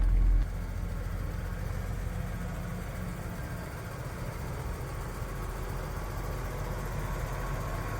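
A 1989 BMW E30 325i with its six-cylinder engine idles at a steady, low rumble, heard fairly quietly and evenly throughout with no voices.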